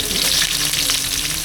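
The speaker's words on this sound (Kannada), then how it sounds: "ಈರುಳ್ಳಿನ ಹಾಕ್ಕೊಂಡ ಮೇಲೆ ಕಂದು ಬಣ್ಣ ಆಗೋ ತನಕ ಕ್ಲೀನಾಗಿ ರೋಸ್ಟ್ ಮಾಡ್ಕೊಬೇಕು" Onions fry hard in hot oil with whole spices for a veg biryani over a wood-fired stove, a loud, dense sizzle and crackle heard up close without talk.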